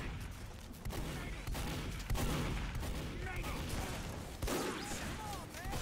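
Gunfire in a Team Fortress 2 match between open players and Terrible Tactics, with rapid, dense bursts of shots and impacts layered under a caster's voice throughout.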